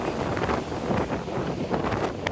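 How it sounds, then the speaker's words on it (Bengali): Strong wind gusts roar across the microphone by the sea in Lecco, Italy, a loud, rough, continuous rush with no voices. "বাতাস কি আপনারা বাতাসের শব্দ পাচ্ছেন কিনা আমি জানি না"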